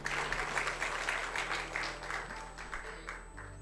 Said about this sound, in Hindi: आप ताली अपने लिए बजा सकते हैं।